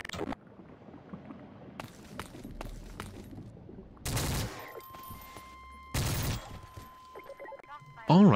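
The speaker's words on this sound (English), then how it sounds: "I watched enough action movies to know you need a silenced assault rifle to execute them." Suppressed assault rifle shots in Garry's Mod come as short, dull bursts of several rapid pops, spaced apart with quieter game sounds between them and a brief voice near the end.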